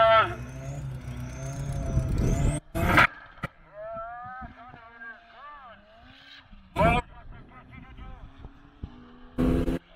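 Ford and BMW cars roar past at a drag race, loud engine bursts rising and falling with sharp revving sweeps, and a commentator talks over the noise between the passes.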